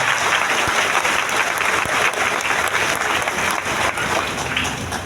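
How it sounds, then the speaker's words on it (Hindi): A large audience at a DXN mega event in Latehar, Jharkhand claps loudly and continuously, a dense, steady wash of applause with no talking over it. "एक जोरदार ताली के साथ"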